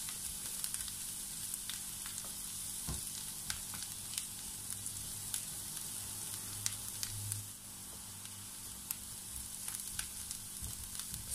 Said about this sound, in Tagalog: itutuloy po natin ang ating paggisa ng 1 pang minuto hanggang sa ito ay mag-brown ng konti